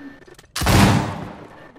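A single loud pistol shot with a long reverberant tail, fired in Uncharted 4, sharp and close, with quiet ambience before and after.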